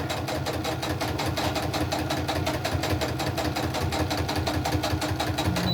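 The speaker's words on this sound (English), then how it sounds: "sew that on down the straight edge of this" A sewing machine runs continuously as it stitches a straight seam on crazy crumb quilt fabric, a close, loud, even rhythmic whirr with no talking.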